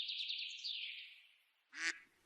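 A cartoon duck quacks in a quick, rapid run of nasal calls, then goes briefly quiet before one sharper, separate quack; the sound is fairly faint.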